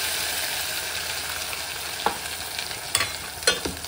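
Masala paste sizzles in hot oil with bay leaf and cinnamon while making shahi paneer, a steady close frying hiss broken by a few sharp spoon scrapes against the pan.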